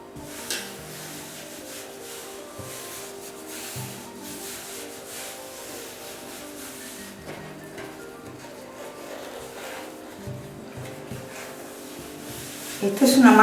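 Hands spread and smear an oil-based dough, making soft, continuous rubbing and squishing sounds close by, with a voice talking over them.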